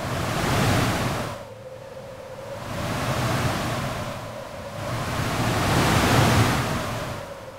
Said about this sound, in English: these are great to make wind sounds